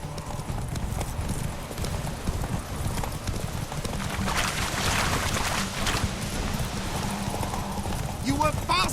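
Geralt's horse Roach galloping in The Witcher 3, a steady rapid clip-clop of hooves running throughout, close and clear, with voices speaking over the hoofbeats.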